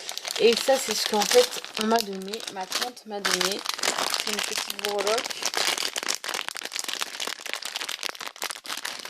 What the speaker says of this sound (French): Désolée pour le bruit du plastique.